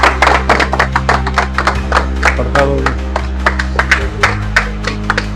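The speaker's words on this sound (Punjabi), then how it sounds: "ਤਾੜੀਆਂ ਮਾਰ ਦੋ ਤਾੜੀਆਂ ਵਜਾਓ ਬਈ" A crowd claps in scattered, uneven bursts at a Shiv Sena Hindustan political rally. Someone talks loudly through a PA over the claps, with a steady low electrical hum underneath.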